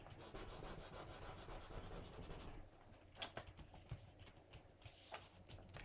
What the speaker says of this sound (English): Let's burnish this right here.